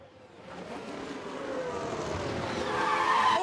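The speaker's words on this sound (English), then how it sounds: "Oh, and the car locks up." An F1 car in F1 Manager 23 locks its tyres, a long rising skid and engine roar building steadily louder over a few seconds without pause.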